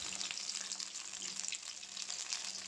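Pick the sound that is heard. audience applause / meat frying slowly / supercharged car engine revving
meat frying slowly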